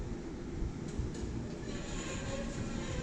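A vintage 1970s General Oiltronic hydraulic elevator at a bar and grill moving upward, a steady low rumbling drone with a broadband mechanical hiss, constant and fairly close, with no talking.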